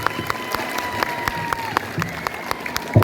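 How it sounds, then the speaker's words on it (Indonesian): An audience applauds Mas Fatahila at a school character-building session held with local police: a steady, moderate patter of many hands clapping, with a faint voice and some tonal hum behind it. "Sekali lagi tepuk tangan buat Mas Fatahila."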